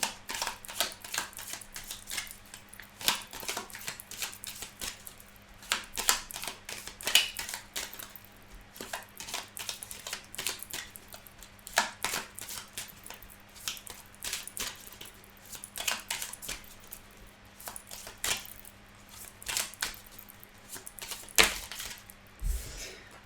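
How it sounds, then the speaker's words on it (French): Tarot cards being shuffled by hand, a run of quick crisp riffling and tapping bursts at close range, irregular and fairly soft against a quiet background hum, with no speech. "Donc je vais mélanger les cartes pour vous."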